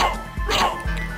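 A dog in the game Castlevania: Symphony of the Night gives two short yipping barks, close and moderately loud over game sound.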